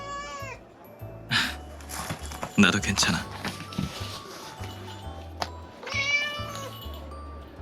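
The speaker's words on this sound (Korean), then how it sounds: "길 잃은 고양이 같은데 캔디하우스에 있는 검은 고양이를 보고 친구인 줄 알았나 보군" A stray cat gives clear, drawn-out meows, once at the start and again later, between bursts of rustling and a voice talking nearby.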